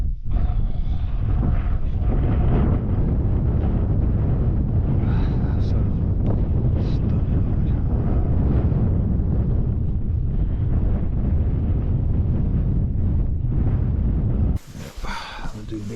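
Strong wind buffeting a microphone on a mountain hike, a loud continuous roar and rumble that drops off abruptly near the end, with a voice faintly underneath.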